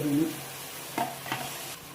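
Onions frying in a pan for a cauliflower curry, cooked until brownish, give off a soft steady sizzle with a couple of brief stirring scrapes, close and fairly quiet.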